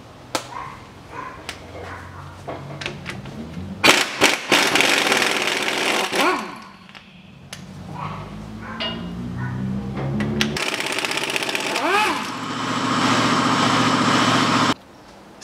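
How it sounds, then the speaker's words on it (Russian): Bolts on the rear hub flange of a Land Rover Defender are loosened, with a run of loud mechanical whirring and buzzing bursts like a power tool, separated by short pauses and clattering handling noise. "Откручиваем болты фланца."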